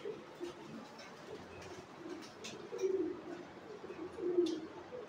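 Inside a large shed on a fancy pigeon farm in Bangladesh, pigeons give faint, low cooing, with a couple of slightly louder coos rising over a steady murmur of background noise.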